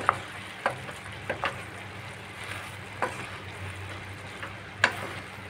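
Taro leaves and mixed vegetables fry gently in a pan while being stirred, giving a soft, continuous sizzle punctuated by sparse, sharp clicks of the utensil against the pan.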